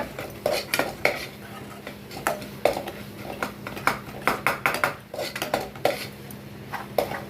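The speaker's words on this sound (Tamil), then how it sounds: "அப்பப்போ எடுத்து நல்லா இது மாதிரி கலரி விட்டுக்கிட்டே இருங்க" A metal spoon stirs mushroom gravy in a cooking pan, clinking and scraping against the pan in close, irregular clatters over a faint background sizzle. No voices are heard.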